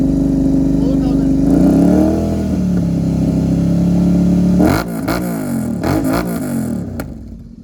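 A Royal Enfield twin-cylinder motorcycle (Continental GT 650 or Interceptor) revs to about 4000 RPM through an aftermarket exhaust with its dB killer removed. The engine drone climbs and holds loud and close, then breaks into short blips near the end.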